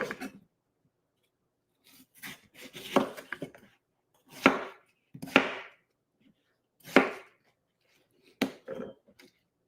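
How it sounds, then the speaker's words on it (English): Knife chopping through watermelon during kitchen juice prep, a few sharp separate cuts spaced out over several seconds with quiet gaps between, close by, no talking. "We're almost done chopping."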